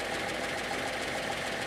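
A car or truck engine idles with a water bottle placed on the intake, giving a steady, close mechanical rumble with a slight uneven pulse and no voices.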